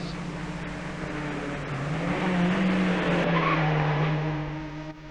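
Rally cars racing on a Grand Prix circuit, an engine roar with a rising, sweeping rev and tire skid sounds, loud and close before fading at the end.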